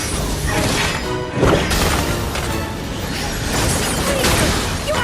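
Heavy smashing attack hits in Final Fantasy 7 Remake, a dense run of crashing, thwacking impacts with whooshes and mechanical clatter, loud and continuous with a sharp burst near the middle.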